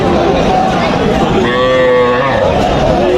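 A Sahiwal cross calf moos at a busy Joypurhat cattle market, one drawn-out low call rising in the middle of the clip over constant crowd murmur and chatter.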